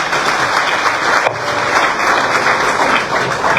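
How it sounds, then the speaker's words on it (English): An audience at a ceremony applauds loudly and continuously, a dense wash of many hands clapping without a break. "Please clap for him again."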